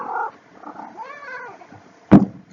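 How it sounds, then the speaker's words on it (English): A house cat purrs softly indoors and gives a brief rising-and-falling call, followed by a sharp knock near the end, with no talking. "So, sorry, that was my cat."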